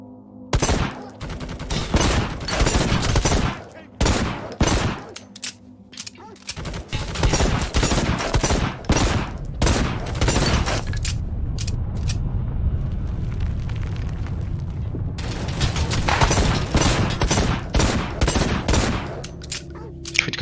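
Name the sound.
gunfire in the video game Necromunda: Hired Gun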